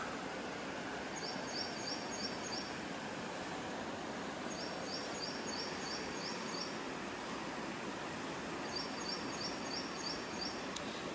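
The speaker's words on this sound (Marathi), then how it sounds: "तिकडे पक्षी ओरडत आहेत मस्त" Short bursts of high, rapid bird chirps repeat three times over a steady outdoor rush of noise, fairly faint and distant.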